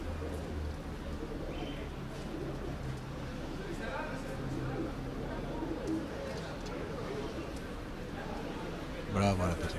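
Racing pigeons arriving at a pigeon race in Volos, heard as cooing and bird calls over a steady outdoor background, with people talking throughout and a brief rustling burst near the end.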